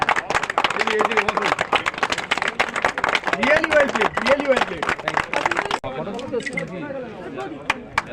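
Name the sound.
applause at cricket match prize giving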